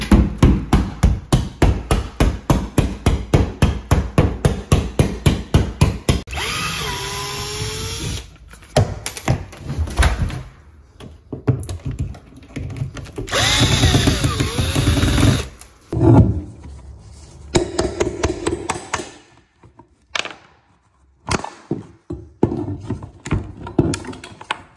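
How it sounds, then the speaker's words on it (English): Drywall is hammered and broken up during a fiberglass soaker tub removal. A fast run of close, loud, regular blows opens the stretch, followed by irregular knocks, cracks and crumbling debris. "we're gonna have to break the drywall up above this lip"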